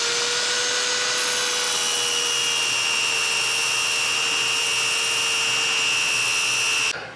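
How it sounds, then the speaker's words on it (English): Turned wood end grain being sanded with 120 grit sandpaper on a lathe makes a loud, steady hissing rasp over the spinning machine's constant whine, uninterrupted for about seven seconds. "I'm going to start off with 120 grit right here on the end grain."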